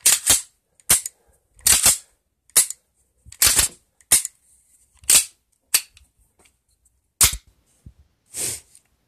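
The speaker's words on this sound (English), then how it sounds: "slide it back on, press the recoil spring in, rotate the barrel nut, and do a function test." Reassembled Star SA 9mm Largo pistol undergoing a function test: sharp, close metallic clicks and snaps of the slide and action, about a dozen spaced irregularly across the span with quiet gaps between.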